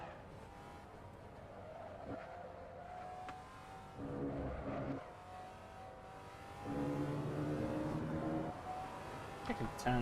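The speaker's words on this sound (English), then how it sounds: "I think the Legends car's kind of loud, so I'll probably leave them up" Legends car engine in the Assetto Corsa racing game, a steady droning note that rises in pitch as it revs, with louder bursts of acceleration toward the middle and end, heard at moderate level.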